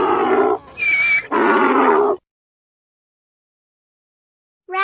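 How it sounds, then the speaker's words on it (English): A donkey braying in harsh, loud bursts, three rasping honks in quick succession followed by silence, then the start of another call at the very end. "Donkey."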